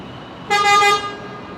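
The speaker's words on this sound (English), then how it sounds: "Oh, that was a proper loud honk." A loud vehicle horn blasts once in a sustained, harmonic-rich honk lasting about half a second, heard outdoors at Brisbane Airport among plane-spotting ambience.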